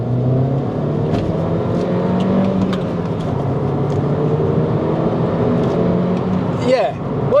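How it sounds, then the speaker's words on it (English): A MINI JCW R56 engine pulls hard in second gear, a loud droning note climbing steadily in pitch from inside the car, with a sharp shift-like sweep near the end. "Let's give it a second gear pull and see how we get on."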